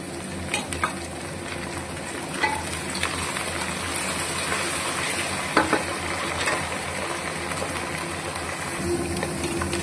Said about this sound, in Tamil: இப்போ நல்லா வதக்கி விட்டுடலாம்